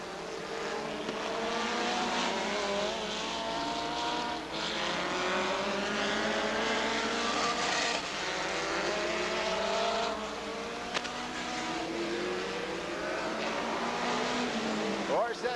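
Race cars roaring around Rockford Speedway during a 1999 short-track race, a continuous loud engine drone with rising and falling pitch as cars pass, steady throughout under an announcer's commentary.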